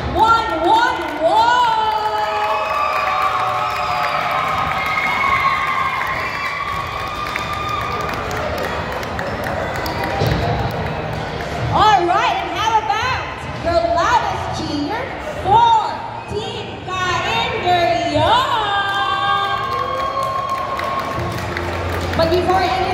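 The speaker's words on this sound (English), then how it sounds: "please give your loudest cheer" A crowd at a basketball championship awarding ceremony cheers and claps for a team, a busy, lively mix of shouts, whoops and applause over music-like tones, with people talking throughout.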